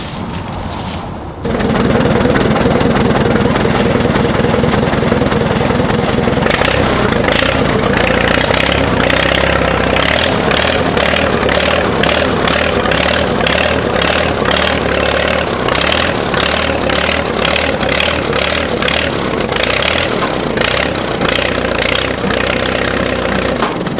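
A vintage 1945 Oliver 80 tractor engine pulling a tree from a pond, starting up and then running steadily with a loud, close, rhythmic chugging and knocking throughout.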